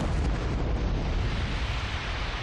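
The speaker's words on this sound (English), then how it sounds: "That missile, nuclear missile is right above us now." A nuclear missile blast in the Dreadnought space battle game rolls out as a dense, loud, low rumbling roar that stays steady and fills the whole moment without any voices.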